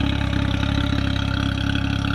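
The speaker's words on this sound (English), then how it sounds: "The engine is running very nicely." A small speedboat engine runs steadily on the Bristol Channel, a loud, even throbbing drone with a fast regular pulse, close by and with no talk.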